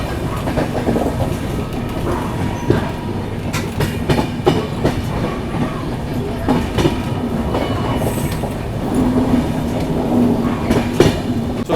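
A Bundelkhand Express passenger train runs slowly along the rails, giving a steady, continuous rumble with rhythmic wheel clatter, scattered clicks and a faint squeal near the end, with no voices.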